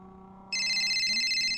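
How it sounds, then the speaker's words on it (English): A phone ring tone suddenly starts and repeats steadily, played through a sound system over a soft background hum. "A phone ringing through the car's sound system interrupts the audiobook."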